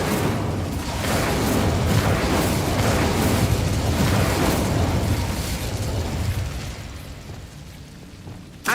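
Incendio fire spell cast in the video game Hogwarts Legacy: a loud, sustained roaring burst of flame that swells and holds for several seconds, then fades away, ending with a small pop.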